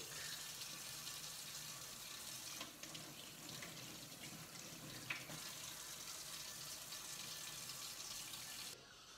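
Water runs steadily from a kitchen tap for hand washing after handling raw meat while making tonkatsu, a continuous close hiss that stops abruptly at the end.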